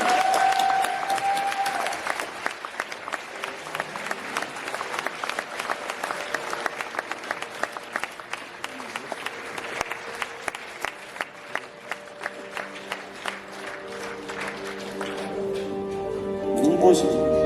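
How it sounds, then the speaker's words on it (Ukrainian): Concert audience in Brest applauding in a long run of clapping, with some individual claps standing out sharply, and a voice speaking over it near the end. "Аплодируй."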